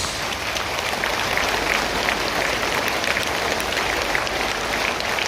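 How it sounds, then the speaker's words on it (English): Sustained audience applause at an event honouring a Chief Minister, a steady wash of many hands clapping throughout, loud and continuous from start to finish. "Please, give him a big round of applause."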